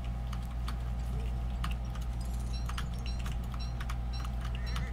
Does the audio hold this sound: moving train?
no